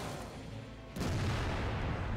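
A heavy artillery boom strikes a tank in World of Tanks, a sudden loud impact about halfway through followed by a sustained rumbling tail over steady background noise, with no talk.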